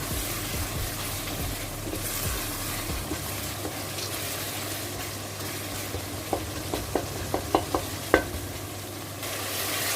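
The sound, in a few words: vegetables frying and being stirred in spiced masala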